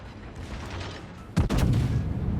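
A battleship main-gun salvo from the Ohio in World of Warships, fired at a Worcester cruiser, lands as one loud, sudden boom with a long rumbling tail after a stretch of quieter ambient battle noise.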